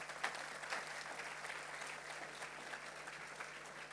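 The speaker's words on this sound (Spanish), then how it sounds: "Dale un fuerte aplauso a Jesús." Congregation applauding during a Spanish-language church service, a steady wash of many hands clapping at moderate, slightly distant level with no talk over it.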